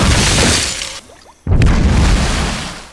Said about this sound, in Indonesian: Bill kecewa karena granat malah meledak di tempat yang salah